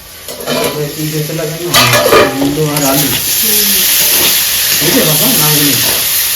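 Food for a Bengali-style taro and prawn curry fries in a hot pan, giving a steady loud sizzle and hiss with occasional stirring clinks, while someone talks over the opening seconds.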